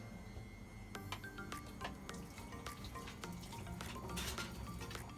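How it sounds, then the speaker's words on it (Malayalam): Vegetables with turmeric sautéing in a pan for Kerala-style vegetable kurma, a faint sizzle with scattered clinks and scraping of a utensil stirring, quiet and close. "എല്ലാം കൂടെ നമ്മളൊന്ന് ചേർത്ത് സോട്ട് ചെയ്യുക"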